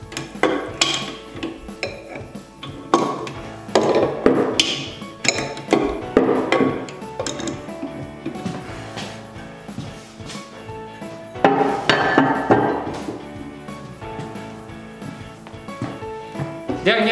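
Adjustable wrench tightening the bolts on each side of a toilet being replaced: metallic clinks, scrapes and ratcheting clicks in irregular bursts, close and fairly loud, with faint room noise between.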